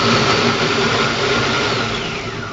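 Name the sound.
Monsieur Cuisine Connect food processor on turbo blending gazpacho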